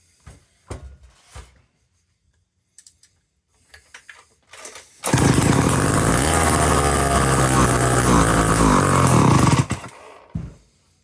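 A restored Sears chainsaw is pull-started with a few short rope pulls and clicks, then its small two-stroke engine fires and runs loudly for about five seconds before cutting out, close up, followed by a brief knock.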